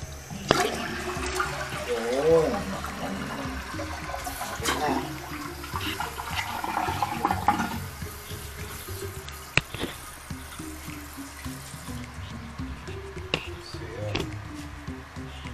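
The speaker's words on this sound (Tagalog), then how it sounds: "I-flush natin ngayon" A newly installed toilet with a water tank flushes with a gurgling rush of water that slowly drains and fades, someone briefly speaking over the start.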